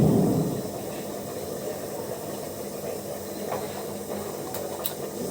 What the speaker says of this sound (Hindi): अब यहाँ हम डालेंगे गर्मा गर्म दूध